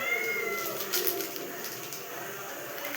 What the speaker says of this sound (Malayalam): ഇത് എവിടെ കയറി പോവായി ഭ്രാന്ത് പിടിച്ച പൂച്ചാണ്ടി?